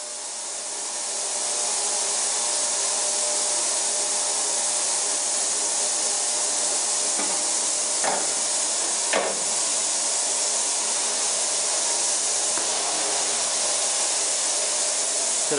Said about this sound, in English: so we want to rinse it off.